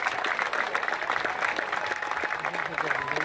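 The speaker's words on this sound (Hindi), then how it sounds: "जोरदार तालियां बजनी चाहिए इस ऐतिहासिक पल को यादगार बनाने के लिए।" Audience clapping in scattered, uneven bursts at the arch closing of the world's highest bridge, moderately loud and mixed with crowd voices throughout.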